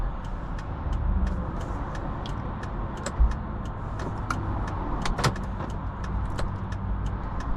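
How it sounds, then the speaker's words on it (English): Steady roadside traffic rumble with cars passing continuously at close range, a low broadband drone with a few brief clicks and knocks, no voices heard. "Lots of traffic."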